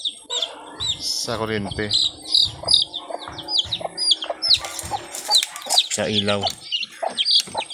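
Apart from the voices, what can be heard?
baby chicks chirping in their coop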